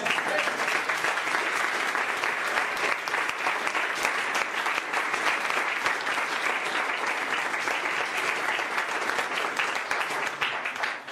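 Sustained congregational applause in a church, dense and even from start to finish, a large group clapping together with faint voices mixed in.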